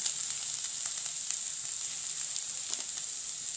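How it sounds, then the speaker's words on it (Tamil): Grated tuber and roasted coconut sizzle steadily in a hot pan, a continuous bright frying hiss with faint occasional scrapes of stirring throughout. "இப்போ வந்து கிழங்கு போட்டு கிளறிடலாம்."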